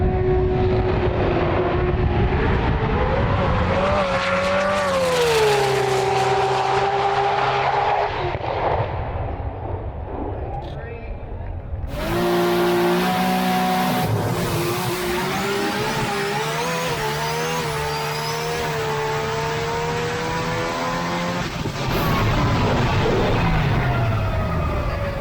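A Nissan race car engine roars at a GT-R Festival, loud and sustained, its pitch climbing and falling through gear changes with a harsh, raspy edge and sharp bursts as cars run hard.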